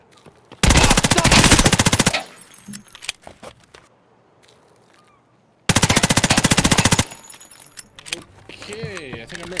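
Gunfire in Escape from Tarkov, two loud sustained bursts of rapid automatic fire about two seconds each, separated by quieter stretches with scattered smaller shots and speech.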